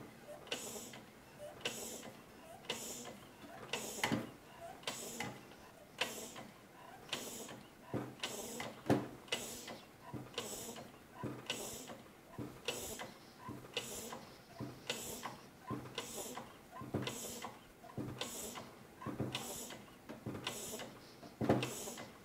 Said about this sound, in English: I'm going to close the release valve right now and generate 100 bar